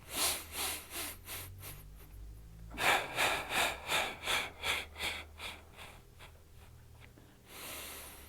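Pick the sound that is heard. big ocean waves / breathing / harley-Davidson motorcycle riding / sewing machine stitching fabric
breathing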